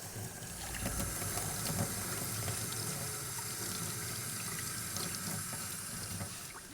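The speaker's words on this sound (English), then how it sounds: "I rinsed this off with some hot water" Hot water runs steadily from a sink tap, splashing over a metal part that has soaked for an hour in a rust-removing solution, with a continuous hiss and spatter heard up close.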